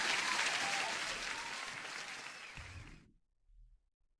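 A dense burst of applause celebrates profitable trades during a live futures day-trading session. It holds steady, then fades and cuts off near the end, leaving a brief low thump.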